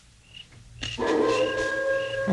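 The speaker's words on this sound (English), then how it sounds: "It sounded like a wolf to me." A wolf or dog howls at night on a mountain, starting with a faint cry and then swelling into a loud, sustained, wavering tone that holds to the end.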